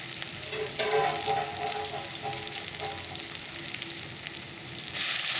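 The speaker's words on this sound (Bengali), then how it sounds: "একটু কালো জিরে ফোড়ন দিয়ে দিলাম পেঁয়াজ কুচিটা দিয়ে দিলাম" Chopped onion hitting hot oil tempered with nigella seeds, a close, dense crackling sizzle with stirring scrapes, easing slightly midway and flaring again at the end, with no talking.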